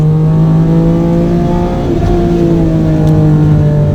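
A loud, close race-car engine drones steadily on a race track, its pitch dipping briefly midway under braking before it climbs again under acceleration out of a corner.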